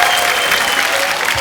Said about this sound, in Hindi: साइना के लिए जोरदार तालियां।